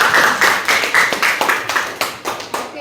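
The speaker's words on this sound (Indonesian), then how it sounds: "Oke, kasih tepuk tangan sekali lagi." A classroom group claps after a presentation, with a steady run of roughly a dozen close, sharp hand claps that gradually trail off.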